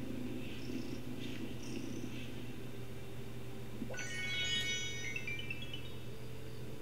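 A cat purrs steadily while being petted in the farming game Wylde Flowers, a soft continuous rumble under quiet ambient music, with a bright chime sweeping in midway.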